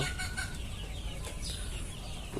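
A crested desi hen clucking softly and repeatedly nearby, short bursts of calls over faint background noise.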